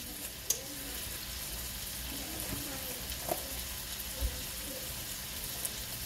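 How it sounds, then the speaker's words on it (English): Sausage browning in a pan for Creole sausage and okra, a soft steady sizzle with a few light clinks of stirring, close and continuous, without talk over it. "So while our sausage is browning"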